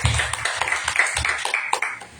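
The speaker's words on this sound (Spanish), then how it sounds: "Denle un aplauso al Señor" A church congregation claps for the Lord at the end of a sermon, with quick rhythmic hand claps about four a second, fairly close and loud, mixed with faint tonal ringing and no clear talking.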